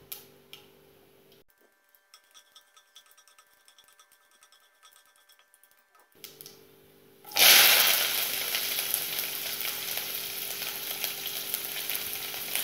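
Quiet ticking at first, then a sudden loud burst of sizzling and crackling as mustard seeds, chana dal and urad dal fry in hot oil, continuing steadily.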